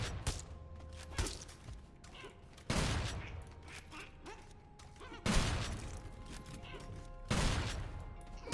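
Shotgun blasts in the video game Sulfur, five heavy booming shots spaced a second or two apart, each with a loud crack and a short decaying tail, close up.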